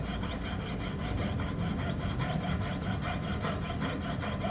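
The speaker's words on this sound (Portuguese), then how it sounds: "Eu estou usando uma serra 3/0. Como vocês podem ver, o anel está bem fixo, né? E aí eu consigo serrar com mais tranquilidade." A fine 3/0 jeweler's saw blade cuts through a ring clamped firmly in place, giving a steady, continuous rasping stroke rhythm, close and moderately loud, with no talking.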